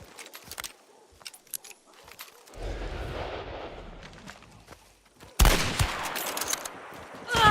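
Springfield rifle fire in the Hunt: Showdown video game: scattered sharp cracks early on, a sustained rumbling stretch, then a sudden loud blast followed by continued busy shooting and clatter close up.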